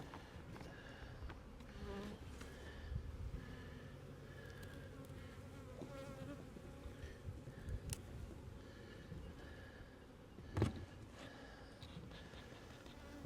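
Dense buzzing of many honey bees over hive frames in a brood box, a continuous close hum with occasional louder passes and light knocks of handling.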